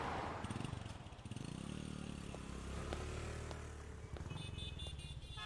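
A motorcycle being wheeled out and started, its engine idling and revving with clatter and scraping, fairly close, with no talk.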